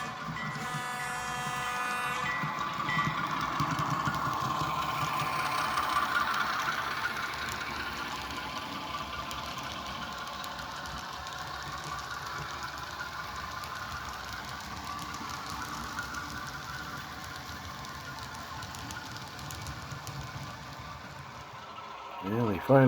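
A train locomotive runs at full throttle beside Iowa Plumb Supply on an extra job headed to Firestone. Its steady, loud engine roar and rumble carry on for the whole stretch, with a brief tonal sound near the start.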